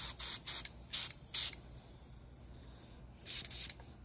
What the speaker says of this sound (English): if I'm doing more precise airbrushing, like that, it just closes it up